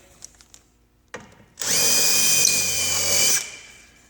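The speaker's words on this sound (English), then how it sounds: "then drill that one relatively deep" A power drill whirs loudly for about two seconds, driving a screw into wood to attach a drawer guide after a few light knocks and taps.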